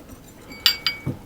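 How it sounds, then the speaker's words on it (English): A whisk mixes icing sugar and salt in a bowl, giving two or three light metallic clinks against the bowl over a quiet background, close and brief. "I'm going to give those a mix around with a whisk just to get them mixed together"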